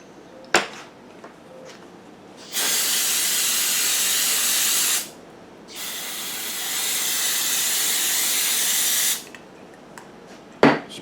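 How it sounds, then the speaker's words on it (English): Penetrating spray aimed at a lawn mower cylinder head during a head gasket replacement, two long steady hissing bursts of a couple of seconds each, close and loud, with small clicks before and after. "Spray a little bit on there, see if it loosens anything up."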